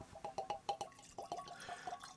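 Texas Giant bourbon glugging out of a bottle: a rapid series of about a dozen hollow liquid gulps, close and fairly quiet, with no voices in between.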